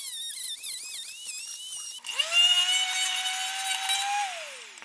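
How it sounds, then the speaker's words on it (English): High-pitched whine of a Dremel rotary tool cutting through a battery casing, a loud close single pass with the pitch bending as the bit bites, then winding down at the end. "I'm just going to Dremel through and make one pass through."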